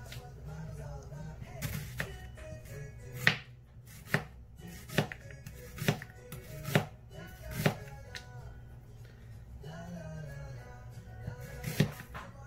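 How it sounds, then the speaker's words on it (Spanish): A knife slicing onion into rings on a cutting board, producing about eight sharp, distinct thuds at uneven intervals of a second or two, close and clear against a quiet room with faint voice murmurs. "Cebolla en rodajitas."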